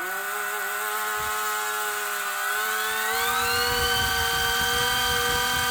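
Hubsan H101B Lynx toy helicopter motor whining steadily near the listener, a high electric buzz with rising harmonics that climbs in pitch as it speeds up about halfway through, with a flutter of rotor wash below.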